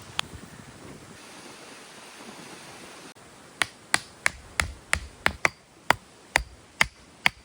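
Wind gusts across a lochside campsite at Loch Trool in Scotland's Galloway Forest Park. A steady rushing roar buffets the microphone, then gives way to a run of sharp, loud snapping cracks at a quick, uneven rhythm.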